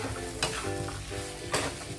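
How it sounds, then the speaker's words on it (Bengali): Chicken ghugni with chicken masala frying and being stirred in a pan, a dense close-up sizzle broken by scraping utensil strokes, with no talking. "ভালো করে নাড়াচাড়া করে দেবো।"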